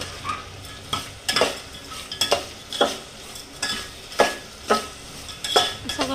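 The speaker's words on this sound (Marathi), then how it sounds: "सगळं मिक्स करून घ्यायचं आहे आणि आई सगळं मिक्स करून घेत आहेत" Jaggery rice with crushed peanuts being stirred in a pan on the stove, giving a steady rhythm of scraping spoon strokes roughly every half second over a soft sizzle, close and clear with no voices.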